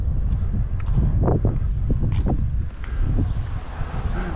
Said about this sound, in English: For definite, you're getting a bit of wind now, guys.